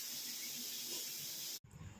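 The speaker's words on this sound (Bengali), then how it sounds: "কাউকে দেখেছো হাতা দিয়ে ভাজা করতে আমি হাতা দিয়ে করছি" Potatoes and onions fry in a pan while being stirred with a ladle. A quiet, steady sizzle runs on, then cuts off abruptly, leaving a low rumble.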